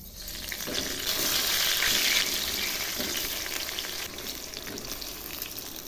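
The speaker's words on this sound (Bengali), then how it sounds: "এবার আমি ওই তেলে বেগুনগুলো ভেজে নিচ্ছি।" Eggplant pieces frying in oil over low heat, a continuous bright sizzle with light crackling, close and steady, swelling slightly and then settling.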